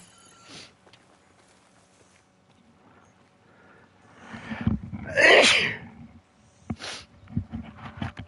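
One loud, close sneeze bursts out sharply after a few quiet shuffles and small noises, and a handful of softer clicks and movements follow it.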